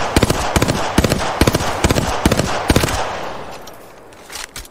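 Rapid gunfire in the video game Apex Legends, several bursts of sharp automatic shots in quick clusters, fairly loud, tapering off near the end.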